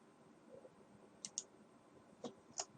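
A few faint, isolated computer mouse clicks tick in a quiet room, two close together and then two more spaced apart.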